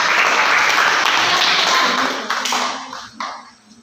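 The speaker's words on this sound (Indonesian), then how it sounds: "tepuk tangan untuk kelompok" Audience applause for a student presentation group in a classroom, dense clapping filling the first two seconds, then thinning out and fading with a few scattered late claps.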